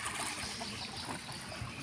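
Water running through an irrigation river, a steady trickling wash that fills the short stretch at an even level, close and continuous.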